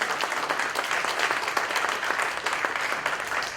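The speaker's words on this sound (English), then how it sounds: "Let's give all the speakers a round of applause." A conference audience applauds the speakers after a tech dealmaker panel, a steady dense wash of many hands clapping throughout, no talking over it.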